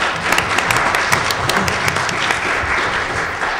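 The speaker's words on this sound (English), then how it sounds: "I would like to please get a warm round of applause" A conference audience gives the speakers a warm round of applause at a Martin Luther King event on ethno-cultural respect and Indigenous rights. The clapping is loud, dense and sustained, with sharp individual claps standing out.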